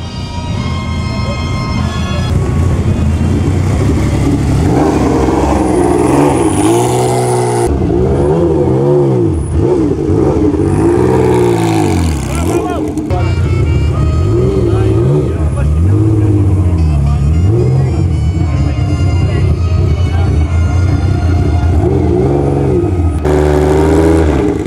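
A Ferrari Dino at the 2015 Amelia Island Concours, its engine revving repeatedly in loud rising and falling sweeps, close by, with voices in the background between the blips.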